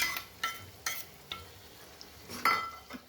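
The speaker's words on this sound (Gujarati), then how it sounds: "આપણે ધીમા તાપે આને ચલાવતા રહીશું" A spoon stirs yogurt paste into softened tomatoes in a pan over low heat, giving a few soft scraping strokes and light clinks against the metal with faint sizzling underneath, close and quiet.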